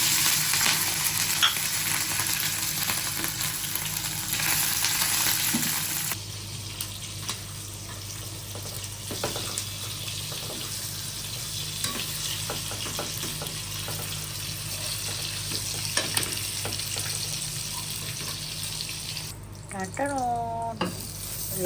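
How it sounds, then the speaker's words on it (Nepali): Meat and egg fry in hot oil for noodles, a steady crackling sizzle that fills the whole stretch, shifting in tone as food is stirred, with brief clinks near the end. "अब मैले यो सबै आइटम एक एकवटा गरेर फ्राई गर्छु गाइस"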